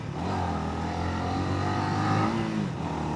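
A motorcycle with its top box removed runs steadily on the street, with a continuous close engine drone, some throttle variation, and constant road and wind noise.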